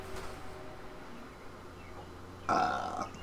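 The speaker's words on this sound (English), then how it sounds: "Just a random belch." A single short, loud belch bursts out near the end, following quiet background noise.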